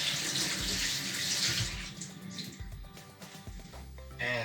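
Running tap water splashes steadily over a fresh seabass being rinsed in a kitchen sink in Montenegro, loud and close, easing and breaking into uneven splashes and drips toward the end.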